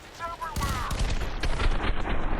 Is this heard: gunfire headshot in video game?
yes